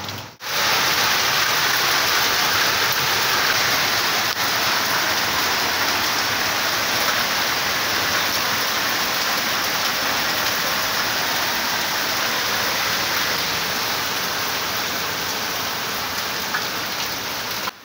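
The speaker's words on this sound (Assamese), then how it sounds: "পুৰা বৰষুণ দিছে" Heavy rain with hail pours down during a windstorm beside an ATM, a dense, steady roar that stays loud and close for the whole stretch.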